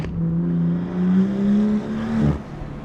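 A BMW M140i with a Stage 2 tune, rear-wheel drive and a manual gearbox, revs hard with a rising, droning engine note that swells and dips, then ends abruptly with a sharp crackle as the throttle closes.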